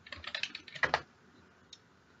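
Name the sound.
typing on a computer keyboard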